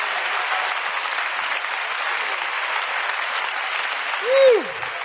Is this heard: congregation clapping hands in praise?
yes